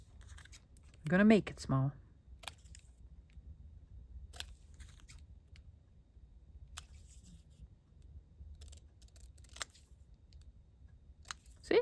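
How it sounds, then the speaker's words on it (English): Scissors snip paper for a junk journal accordion pocket tag, a few quick crisp cuts scattered through a quiet room, with a voice briefly talking near the start. "That's not small, but I'm going to snip it."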